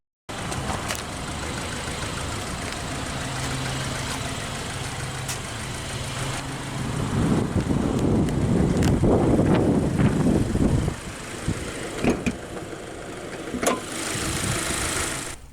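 A 2024 Subaru Crosstrek Limited with a 2.5-liter naturally aspirated FB25D flat-4 boxer engine idles steadily up close, with a louder, rougher stretch in the middle and a few sharp clicks toward the end.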